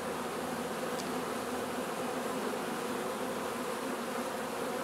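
A dense, continuous drone of many honeybees buzzing inside an open hive fills the clip, steady and close, with no talking.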